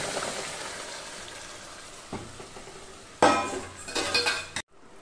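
Boiled mung dal and bottle gourd tipped into a hot wok for a Bengali vegetarian dish, giving a soft thump, then a louder burst of sizzling with metallic clinks of utensils against the pan, ending abruptly.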